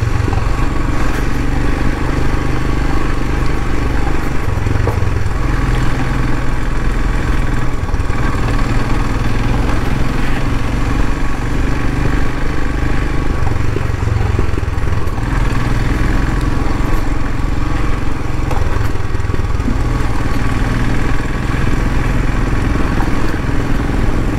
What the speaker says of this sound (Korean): 예전에 처음에 탔던 오토바이인데